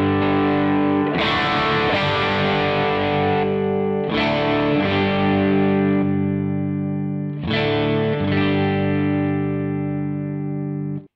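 Electric guitar played through an Amplified Nation Wonderland Overdrive V2 pedal with its preamp boost engaged: three loud, distorted strummed chords, each ringing out with long sustain before the next.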